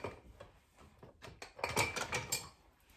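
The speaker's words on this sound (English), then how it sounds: "and just kind of whisk it all together" A whisk stirring a homemade hot chocolate mixture in a pot, with quick metallic scraping and tapping strokes that grow busier and louder halfway through, close up, with no talking.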